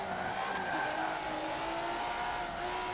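Acura NSX in Forza Motorsport 7 held at redline, its engine droning steadily against the rev limiter with a constant high-pitched tone, loud and unbroken throughout.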